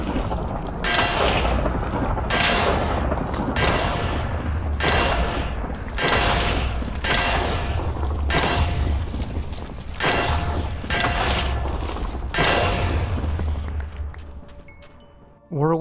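Repeated bursts from a melee hammer ability in Minecraft, each an explosive clanging blast with a metallic ring, about eight evenly spaced impacts in a steady rhythm, loud and close, followed by quiet at the end.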